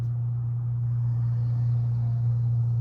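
A small manual Honda car with an aftermarket exhaust pipe idles or rolls nearby on a Florida road, giving a steady, droning low engine rumble that holds even throughout with no talking.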